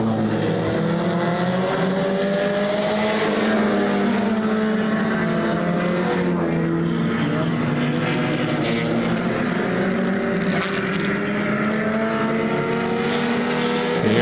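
Mini stock race cars roar around a short oval track in a feature race, several engines droning and overlapping continuously at close range with a steady, loud buzz.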